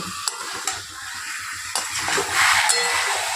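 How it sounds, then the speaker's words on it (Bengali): Chicken sautéing in a pan over a low gas flame, with a steady soft sizzle broken by several sharp clacks of a utensil stirring against the pan, no voices. "চিকেনটা দিয়ে আমি আরেকটু ভালোভাবে গ্যাসের ফ্লেমটা লোতে দিয়ে ভালো করে কষে নেব।"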